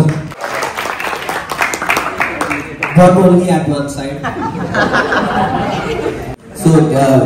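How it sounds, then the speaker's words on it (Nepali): An audience claps to welcome Sushant, who has come from Kalsati, with steady applause and light chatter and chuckles from the crowd, heard close and under a lively spoken voice. "अब हाम्रो कालसतीबाट आउनुभएको सुशान्त दाइलाई एक ताली भयो त"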